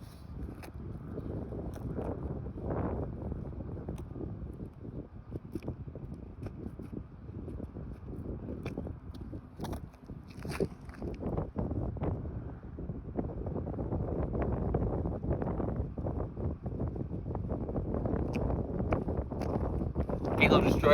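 Headwind buffets the microphone during disc golf practice, a continuous low rumbling gusty roar that swells and dips, with someone talking intermittently beneath it.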